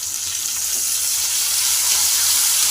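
Chopped tomato frying in oil with garlic for an egg gravy: a loud, dense, continuous sizzle and hiss that holds steady throughout, with no voices.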